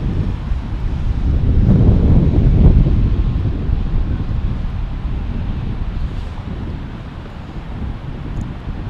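Steady wind buffets an outdoor microphone at Fort Lauderdale International Airport, a broad low rumble that swells loudest early and then eases into a constant roar with no voices.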